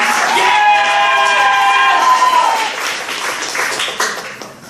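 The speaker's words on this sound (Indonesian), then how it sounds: "Yang setuju tepuk tangannya." A large crowd at a women's Christian gathering breaks into loud, sustained clapping and cheering, with a sung or shouted tonal line over it early on that fades as the applause thins toward the end.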